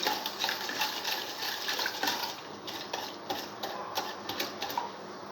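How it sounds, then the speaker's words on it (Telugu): Jaggery water beaten in a bowl with a hand beater for a wheat flour sweet, giving a steady, close run of quick rattling clicks and wet sloshing throughout, with no talking. "హ్యాండ్ బెటర్తో బీట్ చేస్తూ ఉండండి."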